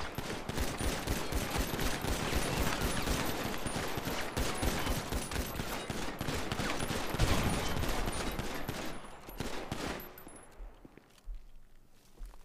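Sustained rapid gunfire during a police cell shootout in GTA V, dense and loud bursts for about ten seconds before cutting off to quieter scuffling, with no talk.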